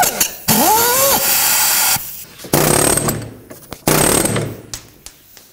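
Power tool cutting through a rusted front sway bar link on a 2007-2009 Saturn Aura, loud bursts of whining and grinding in several separate runs with a rising pitch sweep early on, no talk.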